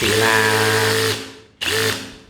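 A cordless brushless drill, a budget DeWalt imitation, spins up close and loud with a steady high whine, stops, then runs again briefly in a second burst, with no talk over it.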